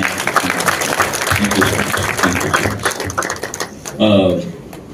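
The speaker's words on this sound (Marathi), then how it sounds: "त्यांच्यासाठी आपण खूप खूप जोरदार टाळ्या वाजवूया" Audience at a film music launch claps in a thick burst that thins out, mixed with crowd noise, and a voice speaks near the end.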